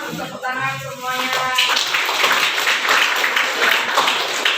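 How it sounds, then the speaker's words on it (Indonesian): An audience claps together at an Indonesian teacher-education session, the applause swelling into a steady, broad wash of many hands; a voice speaks briefly before the clapping starts. "Kita tepuk tangan semuanya."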